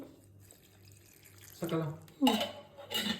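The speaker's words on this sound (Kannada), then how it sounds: "ಸ್ವಲ್ಪ ನೀರು ಹಾಕೊಂಡು ಈಗ ಆಡಿಸ್ಕೊಂಬಿಡ್ತೀನಿ" A little water added to a pot of chicken fry and swished around in a home kitchen; short splashy bursts rise near the end over a low hum, with some voice nearby.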